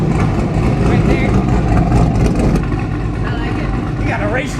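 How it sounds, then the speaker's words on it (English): A pickup truck with an aftermarket cam idles close and loud, a deep, slightly choppy rumble steady throughout while a person talks over it. "at idle, it doesn't sound like a stock truck"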